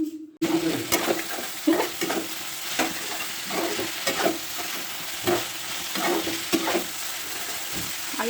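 Potatoes fry in a pan at home with a steady, hissing sizzle, broken by repeated scraping and clinking as a utensil stirs them against the metal.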